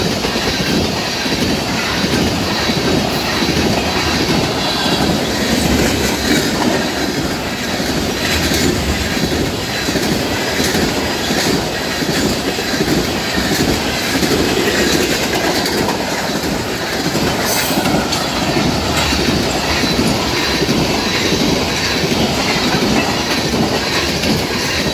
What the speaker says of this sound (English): Tanker train, ethanol train.